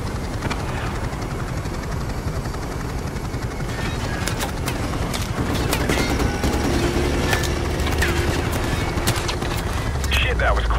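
Dense, loud battlefield gunfire in Call of Duty Modern Warfare Remastered, sustained automatic bursts and sharp cracks over a steady helicopter-like engine drone, continuous for the whole stretch with occasional nearer shots toward the end.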